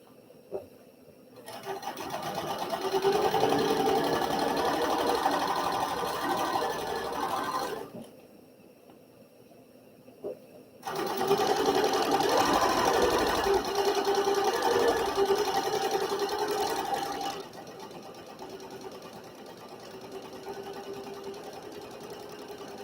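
A sewing machine stitches quilt fabric pieces in two long steady whirring runs, each several seconds, separated by a quiet pause and followed by softer lower hum.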